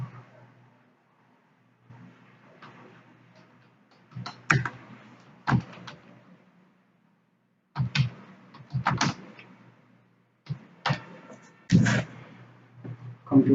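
Keys on a computer keyboard clack in short, irregular bursts of clustered presses separated by quiet pauses, close and fairly crisp, with some low murmured talk mixed in.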